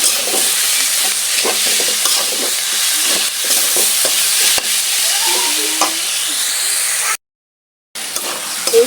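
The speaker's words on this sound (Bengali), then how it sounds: "এখন এই তিতা শাক গিমা শাকটা এর মধ্যে দিয়ে দেবো" Bitter gima greens stir-frying in a hot pan, a steady loud sizzle with repeated scraping stirs throughout, broken by a brief gap of silence near the end before the frying resumes.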